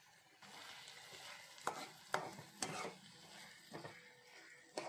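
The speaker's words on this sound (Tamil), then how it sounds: "நல்லா கிண்டிக்கங்க, இல்லாட்டி அடி பிடிச்சிக்கணும்." A spoon scrapes and stirs food in a pan with curry leaves and salt, making a series of irregular soft scraping strokes over faint low sizzling.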